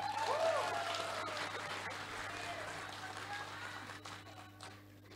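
Audience applause at an Indonesian political event, a faint, distant patter of clapping that fades gradually over several seconds under a low hum, with voices mixed in.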